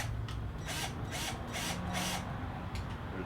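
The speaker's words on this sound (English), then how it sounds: "Start it and let's screw one of these in." Cordless power drill driving a screw into a plastic ice chest, bursts of motor whir with ratcheting pulses that rise and stop several times, close and fairly loud over a steady hum.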